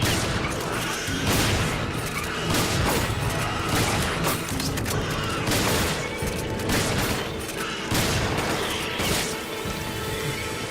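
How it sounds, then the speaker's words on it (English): Repeated heavy shotgun blasts aimed at a boss at a train station in Resident Evil 5, booming shots every second or so over a loud, chaotic wash of crashes and game noise. "now switch back to your shotgun and repeat the process"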